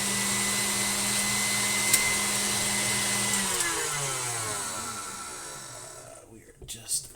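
An electric whisk froths egg whites with a steady, loud motor whine that gradually slows and winds down, ending in a few brief clunks.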